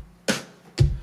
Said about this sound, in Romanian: După am adăugat snare-urile și sună în felul următor.